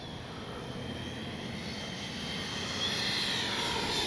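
An FMS Integral 80mm RC jet flies a landing approach, its steady ducted-fan whine and broadband rush holding constant and swelling slightly louder toward the end, heard at middle distance with no talk.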